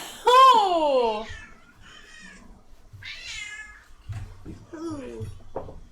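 A cat meows loudly and drawn-out up close, then gives a few shorter, quieter meows, with people talking and laughing in between.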